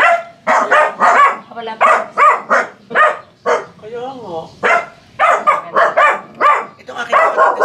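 A fierce dog barks in a series of rapid, loud yaps mixed in among people talking in Filipino.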